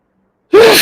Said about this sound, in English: I was sneezing, having a sneezing attack there